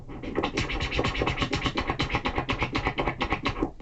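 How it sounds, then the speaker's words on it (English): Quick rhythmic back-and-forth baby scratching of a vinyl record, a steady stream of short scratch strokes over a muffled beat. "that's when you master that baby scratch"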